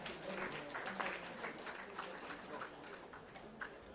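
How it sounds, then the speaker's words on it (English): A summit audience on strengthening food systems for nutrient-rich crops claps together in a steady, dense patter of applause that stays fairly quiet and distant throughout. "Please, may we have a round of applause."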